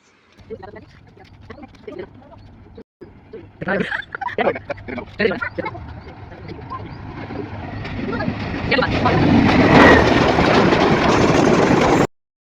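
A train draws near outdoors, its broad rumbling roar swelling steadily over the final seconds until it is loud and close, after earlier stretches of scattered movement and voices.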